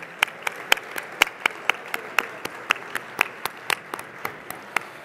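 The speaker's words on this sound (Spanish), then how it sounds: "Un fuerte aplauso para estas dos menciones de honor." Applause at an awards ceremony for two honourable mentions, a modest group clapping in a steady, evenly spaced rhythm of distinct, crisp claps that carries on throughout.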